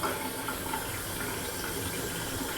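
Water poured into a small retainer cleaning machine makes a steady, continuous splashing rush. The sound is close, even in loudness and has no other sounds with it.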